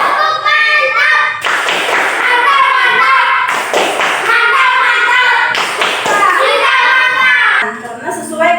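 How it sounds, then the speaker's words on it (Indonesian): A classroom of children claps hands loudly and close in rhythmic bursts. Children's voices chant and call out over the clapping, with short pauses between rounds. "Tepuk tangan."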